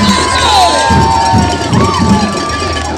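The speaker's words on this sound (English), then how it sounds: "This crowd is going crazy as these Wildcats have put some points on the board" A high school football crowd cheers loudly after the Wildcats score, a continuous roar of shouting voices with children's yells and possible cowbell clanks, close and full throughout.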